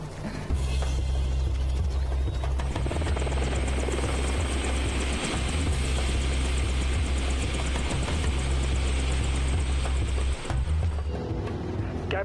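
Helicopter flying close overhead, a loud, steady rotor thump and engine drone that continues without a break and eases slightly near the end.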